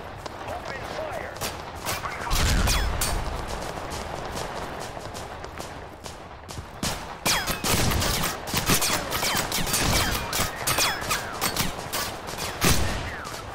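Rapid bursts of gunfire crackle repeatedly in the game Total Conflict: Resistance, some close and sharp, others distant, with scattered voices talking under the shooting.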